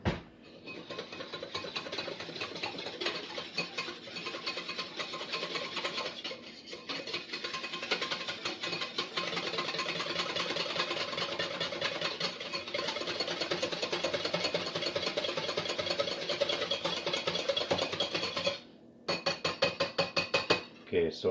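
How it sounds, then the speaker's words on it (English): A whisk stirs a lumpy sugar and yeast mixture in a bowl for Norwegian julekake dough, a steady, fast clinking and scraping that runs without pause for about eighteen seconds, stops briefly, then starts again. "let's just take a whisk"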